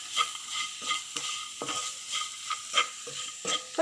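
Coconut pieces fry in hot oil for a clam meat fry, with a steady loud sizzle broken by repeated scraping strokes of a spoon stirring the pan, close up and with no talking.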